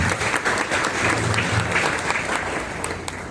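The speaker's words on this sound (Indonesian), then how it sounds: "Tepuk tangan dulu dong" Morning-class participants clap together on request, a brisk, fairly loud burst of group applause that holds steady and fades slightly toward the end.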